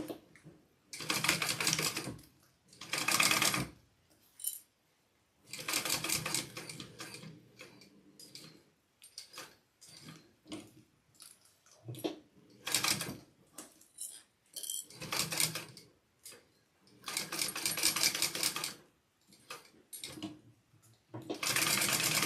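A sewing machine topstitches down the edges of a Brivet backpack made from Moose Fiber Co material, running in repeated loud, close bursts of rapid stitching separated by short pauses.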